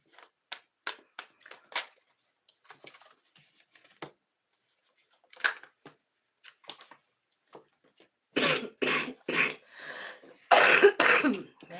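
A person coughing, a burst of several rough, close coughs near the end after a stretch of quiet broken by faint clicks and rustles.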